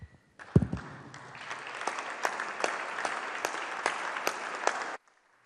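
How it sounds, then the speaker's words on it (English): Members of a state legislature chamber stand and applaud two honored gentlemen, a steady, dense burst of clapping lasting several seconds and then cutting off abruptly, with no voices over it. "stand up, and give a round of applause to both these gentlemen."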